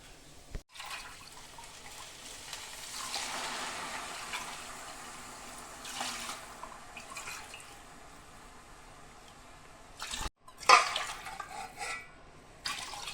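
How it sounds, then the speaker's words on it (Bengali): Four bowls of water poured into rice in a pot for Bengali pulao, a rushing, splashing pour that swells and fades, followed by a couple of sharp clinks and sloshes near the end, heard alone and fairly close. "আমি 4 বাটি জল দিয়ে দিয়েছি।"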